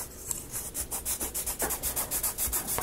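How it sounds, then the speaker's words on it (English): Wooden part of an Ugears gearbox kit being burnished in, heard as a quick run of rhythmic rubbing strokes, about a dozen close, dry swishes, with no talking. "Burnish that in a little bit."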